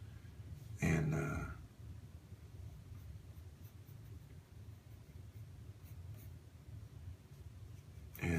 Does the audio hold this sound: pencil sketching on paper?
yes